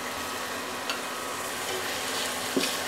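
Ground cumin, coriander and chili powder fry in a pan for chicken korma, a continuous close sizzle with light stirring scrapes and a couple of soft utensil knocks, no voices over it.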